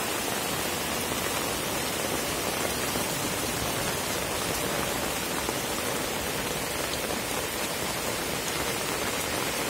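Heavy tropical rain pours down beside a nearly full roadside drain, a dense, loud, unbroken hiss of drops hammering surfaces that stays steady from start to finish.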